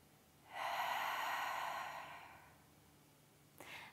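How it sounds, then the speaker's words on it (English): One long open-mouthed exhale during a yin yoga session, close and soft, a breathy whoosh lasting about two seconds that fades out, followed by a brief faint sound near the end. "And then exhale with open mouth."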